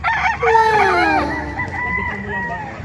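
A rooster crows loudly nearby, with other fowl crowing and clucking in the background.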